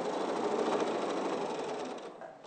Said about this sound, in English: I'm sewing them with the seams down.